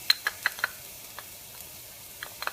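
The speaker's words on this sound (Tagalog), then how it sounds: "Igisa lang natin ng konti ang garlic natin." Garlic sautés in a pan for Filipino igado, giving a faint sizzle and a few sharp ticks and taps, most likely a utensil against the pan. The taps come in a quick cluster at first and a few more near the end.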